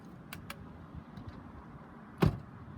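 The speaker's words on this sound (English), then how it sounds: "they may need to pivot again so they can close the car door" A car door shuts with a single dull thud near the end, faint and fairly close, after quiet background noise and a couple of light taps.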